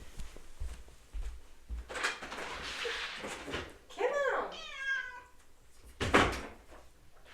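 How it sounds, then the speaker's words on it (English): A domestic cat meows several times at a door indoors, the drawn-out calls rising and falling close by, with a person talking before and around them. "My cat's at the door."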